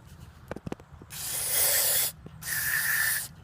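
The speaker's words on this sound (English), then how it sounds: "So basically you just start out, give it some good sprays." Cleaner sprays in two long hissing bursts into the IAC valve of a 1987 Grand Marquis, close and fairly loud, after a few light clicks and taps.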